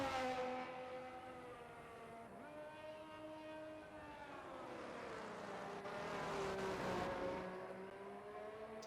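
Race cars in a sim racing game circle the Abu Dhabi track on soft Pirelli tyres, their engines whining in long rising and falling sweeps that swell as one car passes close, with no talk.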